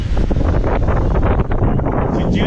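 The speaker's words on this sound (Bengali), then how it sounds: "ঝিরঝিরে জল, ঝিরঝিরে বৃষ্টি, বাতাস, হাওয়া, ঝড় সব মিলেমিশে একাকার" Strong wind gusts and buffets around an open-air container restaurant in Gadiara, a loud, rumbling rush that surges unevenly over a couple of seconds.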